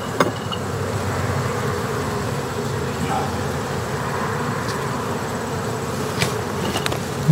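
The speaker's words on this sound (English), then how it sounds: "can see she's got some hatching bees on this frame too" Honey bees from a Caucasian queen's colony hum steadily at an open hive frame with hatching brood, a dense continuous buzz close by with a few brief louder passes of single bees.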